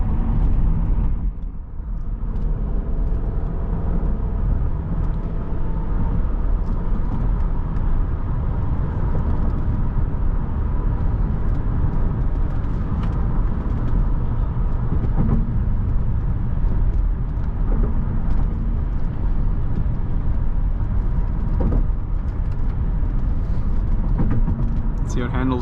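A 2005 Ford Thunderbird 50th Anniversary is driven at night, giving a steady interior rumble of engine and road noise with curvy-road driving, while someone talks throughout.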